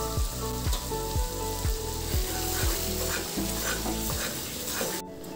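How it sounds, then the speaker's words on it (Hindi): Turmeric and asafoetida spices fry in a pan with a steady hiss and sizzle, while a spoon scrapes and stirs in a regular rhythm of distinct strokes. "यहीं पर डाल देंगे हल्दी पाउडर, अब कुछ नहीं डालना है, बस इसको भूनना है।"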